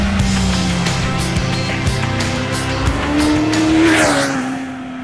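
A race car's tires squeal loudly as it skids and spins around on a track, the engine droning under a long rising screech, with no speech.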